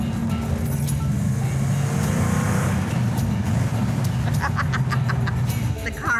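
A car accelerates hard, with a loud, steady engine drone filling the cabin throughout and a few faint sharp clicks near the end.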